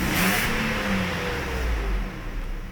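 A Mercedes S600 coupe engine accelerating, a brief close rumble with a rising engine note over road and wind noise, lasting just under three seconds.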